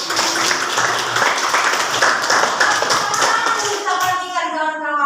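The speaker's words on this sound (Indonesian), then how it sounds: "Tepuk tangan untuk Melisa dulu." Classroom clapping for a student named Melisa, a group of hands patting together at close range while a voice carries over and sings out near the end.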